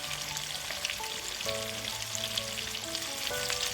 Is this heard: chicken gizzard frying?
yes